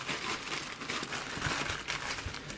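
Packing paper crinkles and crumples in soft, continuous rustling as it is folded down, quiet and close with no voices.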